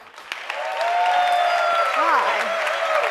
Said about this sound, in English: So please, the biggest hand of applause,